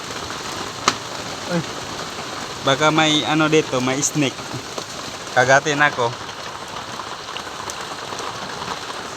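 Steady night rain patters continuously in the background while a person speaks in a few short bursts close by.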